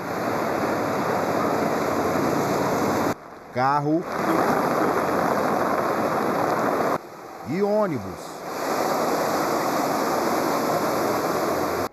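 Floodwater rushes through the streets of Vila Velha after heavy rain in a steady, close hiss and wash, broken twice by short bursts of speech.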